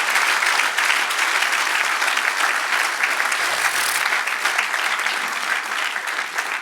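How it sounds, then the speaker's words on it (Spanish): A church congregation claps together in loud, continuous applause, a dense even roar of many hands sustained from start to finish with no talking. "Dale un aplauso con buen ánimo al Señor."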